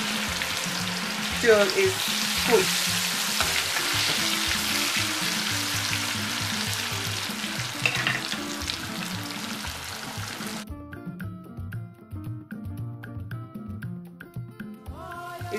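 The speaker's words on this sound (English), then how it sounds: "I'm just going to use my spatula to scoop it into the oil. And then I'll deep fry this" Plantain pieces deep frying in hot vegetable oil for spicy Ghanaian kelewele, a steady loud sizzle and bubbling crackle throughout, with a few clinks of a spatula and a brief spoken phrase partway through.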